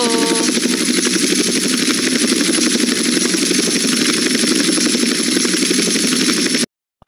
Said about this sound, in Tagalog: ay helicopter oh